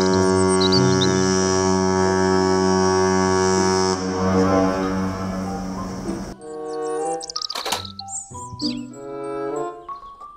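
A toy cruise ship sounds a long, loud, steady horn blast for several seconds, followed by a burst of chirpy electronic toy tones and jingles.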